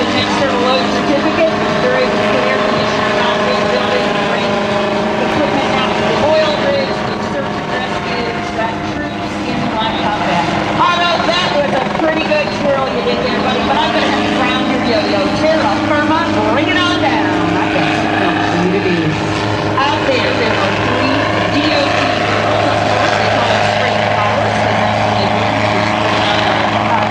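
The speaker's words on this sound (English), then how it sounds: "A demonstration of a helicopter's short line maneuver." A steady, loud rotor drone with a throbbing mechanical whine continues unbroken throughout as a helicopter performs a short line maneuver demonstration at an airshow, hovering close by.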